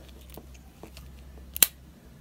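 Small scissors on a multitool being handled in a quiet room, with a single sharp metallic snip or click standing out near the end among faint handling taps.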